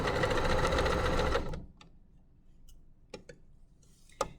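A domestic sewing machine stitches a mini dress skirt onto its bodice in a fast, dense whir for over a second, then stops, leaving a quiet room broken by a few faint clicks and taps.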